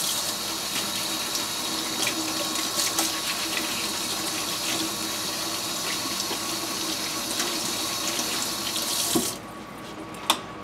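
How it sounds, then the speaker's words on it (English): Tap water runs steadily over four skinny carrots being rinsed in a kitchen sink, a continuous close splashing stream that cuts off near the end, leaving a quieter room and one small clunk. "4 carrots, rinse them off."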